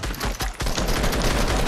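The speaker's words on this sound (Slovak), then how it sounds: "Strieľa do neho za 3, 2, 1, poď" Rapid gunfire in a Fortnite match, dense bursts of shots packed closely together and loud throughout, with no clear gaps and no talking over it.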